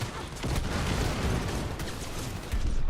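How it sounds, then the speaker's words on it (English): A grenade explosion and bursts of gunfire in the video game Cyberpunk 2077 form a dense, continuous roar of blasts and shots, loud and sustained throughout. "Grenade!"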